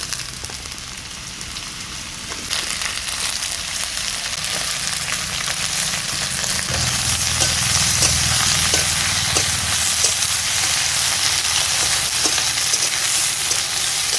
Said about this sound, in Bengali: সব কিছু নেড়ে চেড়ে দিচ্ছি।